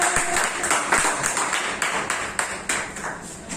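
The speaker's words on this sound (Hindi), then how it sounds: "जोरदार तालियां" Loud applause from an event audience fills the room, a dense wash of many hands clapping steadily with a few sharper individual claps standing out, sustained throughout without talk.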